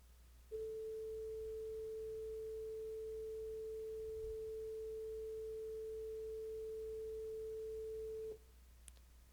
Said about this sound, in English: like a sine wave 440 Hz coming out from the speaker without any manipulation